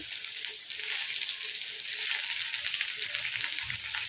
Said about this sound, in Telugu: నూనె అయితే వేడైంది కొద్దిగా ఆవాలు వేసుకుందాము కొద్దిగా జీలకర్ర వేస్తున్నాను కట్ చేసిన ఉల్లిపాయ ముక్కలు వేసుకోండి